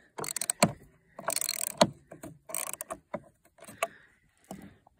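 Wrench working a bolt loose on an iQ 600 snowmobile, a close series of ratcheting clicks and metallic scrapes in short bursts with pauses between.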